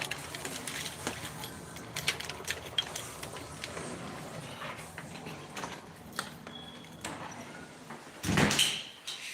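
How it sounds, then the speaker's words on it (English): A door opens and closes in a quiet room, with faint ticks and small scrapes throughout, followed by a sudden loud swish or thud near the end. "So you heard my door."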